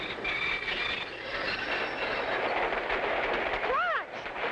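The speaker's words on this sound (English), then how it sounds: "It looks like the train has stopped." A train rumbles along with a steady roar, then its wheels squeal in a brief rising and falling screech as it slows.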